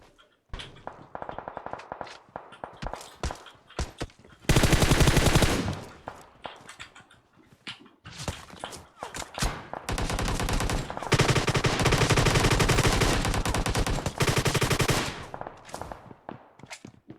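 Gunfire in a multiplayer battle game: rapid automatic bursts and single shots, with two long sustained loud volleys of fire and scattered cracks between them, close and dense, no talking heard.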